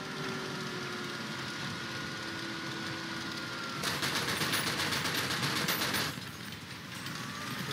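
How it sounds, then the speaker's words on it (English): Rapid automatic gunfire in the War Thunder tank game, a dense rattling burst of shots lasting a couple of seconds over steady engine and battlefield rumble, with no talking. "Something is shooting him."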